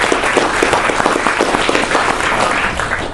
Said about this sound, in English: Maybe we can give a round of applause to the individuals who have been up here today.